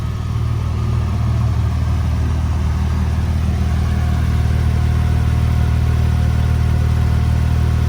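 The 3.8-liter flat-six engine of a 2005 Porsche 911 Carrera S runs with a steady, deep rumble close by, holding an even idle rather than climbing in pitch.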